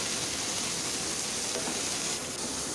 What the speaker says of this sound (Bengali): ফুলটা কিছুক্ষণ ভেজে নেব